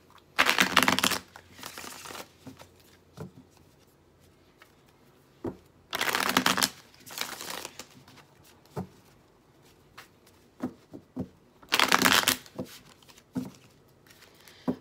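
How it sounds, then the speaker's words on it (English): A deck of tarot cards is shuffled in three distinct bursts of riffling, each lasting about a second, separated by quieter handling and soft taps of the cards, close and fairly quiet. "please bear with me while I get your cards ready to go."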